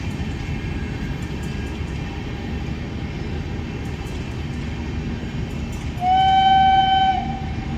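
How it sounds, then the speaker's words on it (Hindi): A daily-running Patna to Kota passenger train with an electric locomotive and Madhubani-painted coaches rolls past with a steady rumble, then sounds a loud, sustained horn blast near the end. "क्या लोकोमोटिव साउंड है।"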